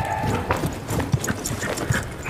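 A pony trots toward a jump bar in a riding lesson, its hooves thudding in a steady, quick clip-clop on soft ground, close and moderately loud.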